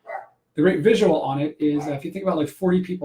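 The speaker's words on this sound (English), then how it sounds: "That's my dog in the background there." A pet dog barks and yips somewhere in the room, mixed in under someone talking steadily in the foreground, the barks brief and partly buried by his voice.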